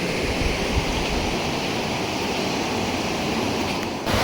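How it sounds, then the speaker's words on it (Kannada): A mountain stream rushes constantly, a dense broadband roar of water flowing toward the Alaknanda river, steady and close throughout with no voices. "ಅಲಕ್ನಂದ ನದಿಗೆ ಸೇರುವಂಥ ಎಷ್ಟೋ ಸ್ಟ್ರೀಮ್ಗಳಿದೆ"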